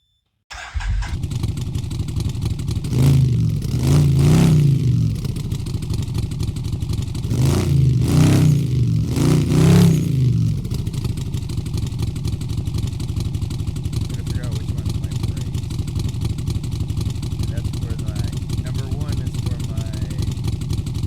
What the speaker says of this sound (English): It's hard to talk over that loud ass exhaust.